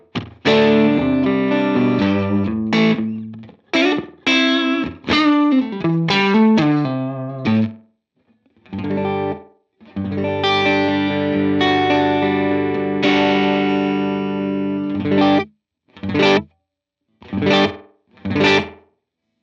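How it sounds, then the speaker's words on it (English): Electric guitar played through a Helix tape echo set to its first playback-head mode, giving a reverb-like wash: a run of melodic phrases with some held chords, then short plucked notes, each trailing off into a soft ambient tail. "with a setting of number 1 on the mode or the playback head we're using, we now get something that's much more in the realm of reverb"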